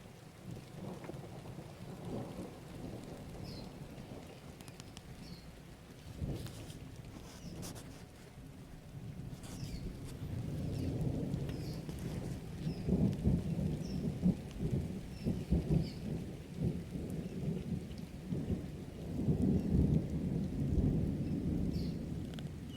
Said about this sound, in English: you might be able to hear that thunder rolling around there